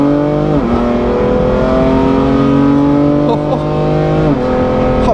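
Alfa Romeo Giulia QV sports car on a race circuit, its engine roaring loudly close by, pitch climbing steadily through the gears with a couple of quick shifts, while a voice talks over it.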